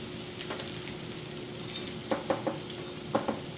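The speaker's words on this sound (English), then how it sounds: "about 4 or 5 tablespoons of olive oil, and we will get our onions in there." Onions, garlic and chili pepper sizzle gently in olive oil over medium heat, a low, soft frying hiss broken by a handful of sharp utensil clicks against the pan near the end.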